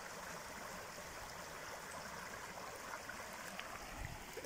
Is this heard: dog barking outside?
no